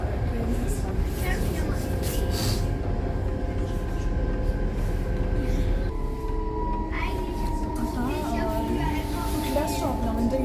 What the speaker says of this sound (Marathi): तर हे खूप सुसज्ज अशा ट्रेन्स असतात